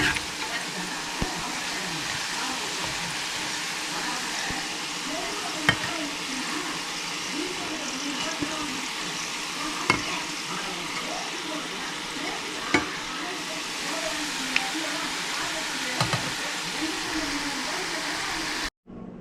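Murukku made from urad dal and rice flour fries in hot oil, giving a steady, close hiss of sizzling with occasional small pops and clicks from stirring, lasting the whole stretch before cutting off.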